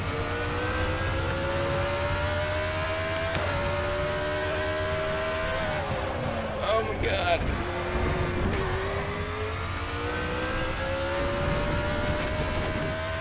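Race car engines in the RaceRoom Racing Experience video game, a pack of cars whining loudly with rising and falling revs through gear changes, a brief swirl of overlapping engines midway, and an excited voice talking over the noise.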